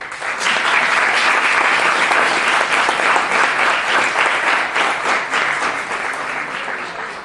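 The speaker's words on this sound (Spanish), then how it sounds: "Demos de otro aplauso, por favor." Enthusiastic audience applause at a university philosophy of law lecture, a loud, continuous roar of many hands clapping that holds steady for several seconds before easing slightly.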